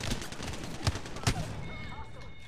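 Gunfire crackles in a video game: a few sharp shots stand out over a busy, noisy background, with a voice speaking over the action.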